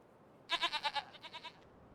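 Goats on a farm in Farming Simulator 25 give a burst of about nine quick, wavering bleats, loud at first and then softer, over a faint background hum.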